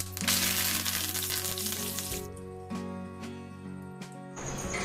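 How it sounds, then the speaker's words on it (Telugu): Curry leaves dropped into hot oil for a tindora fry, a burst of loud crackling sizzle that fades after a couple of seconds into quieter spits and pops over a steady hum. "కరివేపాకు కూడా వేయించుకుందాం."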